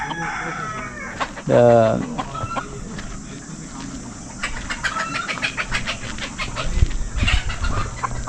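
Chickens cluck and a rooster crows loudly at a hillside village chicken farm in Saudi Arabia, a close crow rising early on with scattered clucks and rustling after, and a voice talking faintly underneath.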